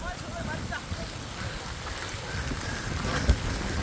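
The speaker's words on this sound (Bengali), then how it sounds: "হুট করে বৃষ্টি শুরু হয়ে গেছে" Sudden rain falls outdoors on a riverbank in a village, a steady soft wash of drops with a low rumble underneath, moderately faint, with a voice talking.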